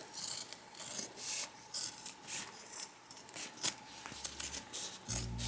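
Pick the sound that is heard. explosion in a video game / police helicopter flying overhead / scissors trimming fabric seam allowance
scissors trimming fabric seam allowance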